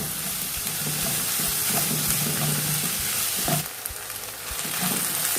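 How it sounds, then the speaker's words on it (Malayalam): Onions with salt sautéing in a pan for a Malabar bread snack, a steady close sizzle with scraping spatula strokes throughout and a brief louder stir midway, no voices. "എന്നിട്ട് ഈ ഉള്ളി ഒന്ന് കളറ് മാറുന്നവരെ നന്നായി വഴറ്റിയെടുക്കാം."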